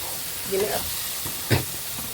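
Tomato puree sizzles softly in a pan while being stirred, with a quiet frying hiss and a couple of brief scraping stirs, no talking.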